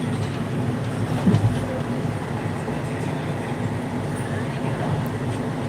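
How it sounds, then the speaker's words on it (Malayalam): Low, continuous rumble of a moving train on its tracks, heard from inside, steady and fairly loud with faint rattling. "ട്രെയിനിൻ്റെ സൗണ്ട് കേൾക്കാമോ എന്ന് പറയണേ"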